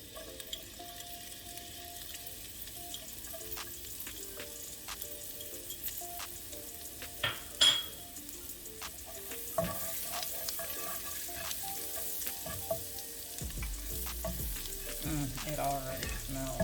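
Garlic frying in about six tablespoons of butter in a skillet gives a steady close sizzle with occasional stirring scrapes and small pops, continuing without any talk.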